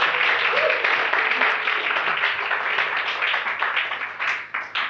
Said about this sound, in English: I think we deserve this time a big round of applause